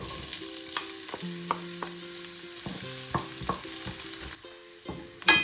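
Chopped onion frying in oil in a pot for chilli con carne, giving a steady sizzle with repeated scraping strokes of a utensil stirring against the pot.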